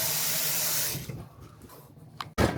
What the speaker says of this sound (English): I'm going to take a pan, fill it up with water, add in some salt